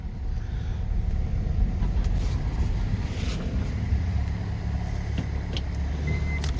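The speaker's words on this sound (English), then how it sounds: "Motor sounds good though." A Kia car's engine idles close by with a steady low rumble, a few faint clicks and a thin high tone rising above it.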